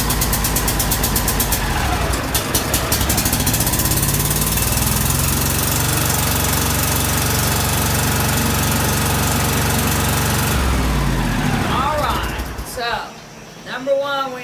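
A John Deere L130 riding lawn mower engine with a newly replaced battery cranks and runs with a loud, steady mechanical drone close by for about ten seconds, then cuts out, leaving a few clanks and rattles.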